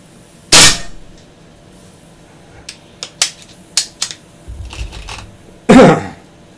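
Air gun shots from a loud Crosman-type pellet gun: two sharp, loud reports about five seconds apart, with a run of smaller clicks and clacks of handling and loading in between, close by with no speech.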